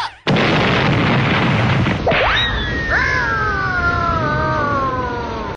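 Cartoon gas explosion from Crayon Shin-chan blows up a house: a sudden loud blast and roaring rumble, then falling whistle-like cartoon tones sliding downward over the fading noise.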